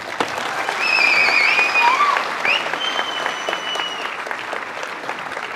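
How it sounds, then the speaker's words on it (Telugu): A crowd at a National Space Day program speech breaks into a steady wave of clapping mixed with a few sharp whistles, sustained and fairly loud throughout. "మీరు నిజంగా వీళ్ళలో చప్పట్లు కొట్టాల్సిందే వాళ్ళకి"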